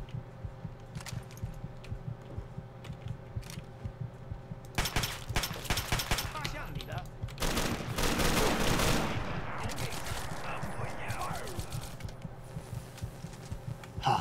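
Gunfire in the video game Fallout 3: a few scattered shots, then a dense burst of rapid shooting and clatter in the middle. Quieter game ambience hums before and after.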